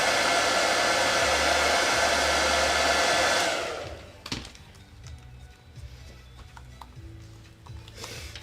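A hair dryer blows steadily at close range over a freshly painted rustic farmhouse porch sign, then shuts off after about three seconds, leaving quiet handling taps and small knocks.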